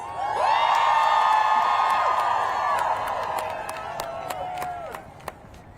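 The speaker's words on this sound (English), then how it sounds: "Another round of applause for Minnie." A rally crowd at a DC people's march cheers, whoops and applauds loudly and continuously, the roar gradually fading over several seconds with scattered claps near the end.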